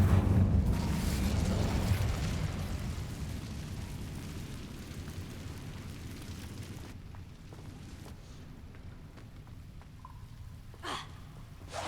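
In Hogwarts Legacy, the Incendio fire spell goes off with a loud roaring burst that dies away into a fading rush of flame. A few faint game effects and a brief whoosh follow.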